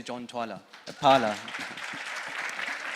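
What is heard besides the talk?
audience applause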